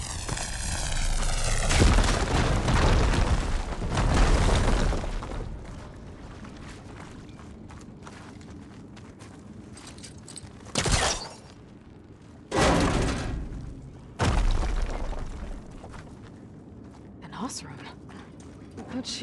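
A fire beam blocking a tunnel in a video game is blown apart, heard as a heavy rumbling blast that fades into a low roar, followed later by several sharp booming impacts amid ambient game sounds.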